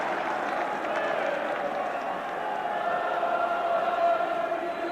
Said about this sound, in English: That's what the applause is for.